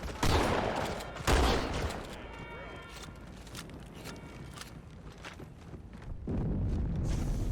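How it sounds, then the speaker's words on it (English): Gunfire from the pistol in the Halo video game, a few sharp shots at the start followed by quieter mechanical clatter and game sounds, with voices in the background. "I got the gun, I shoot bang bang."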